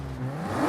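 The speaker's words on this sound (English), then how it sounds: "We have the stock V6 engine." Stock V6 engine of a 2023 Toyota Camry TRD in Forza Horizon 5, revving in a steady, sustained drone that climbs slightly in pitch, loud and close with no talk.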